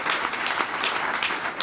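A small studio audience at a radio station's stereo listening session applauds the band with a steady, dense round of clapping that holds throughout.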